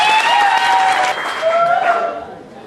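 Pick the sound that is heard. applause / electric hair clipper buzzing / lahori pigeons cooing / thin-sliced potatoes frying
applause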